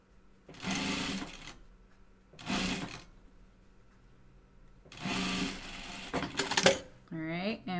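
Sewing machine stitching a fabric face mask in three bursts of steady whirring, each a few seconds long with brief pauses between, the last ending in a short squeak.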